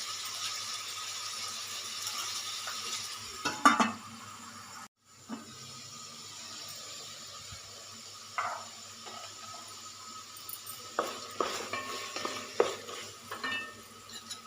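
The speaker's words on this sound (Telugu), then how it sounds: "ఉల్లిపాయ టమాటా అంతా మగ్గిపోతుంది" Onions and tomatoes sauté in a pan with a soft, constant sizzle and hiss, punctuated by repeated scraping stirs and light spatula clinks against the metal, with a brief drop in the sound partway through.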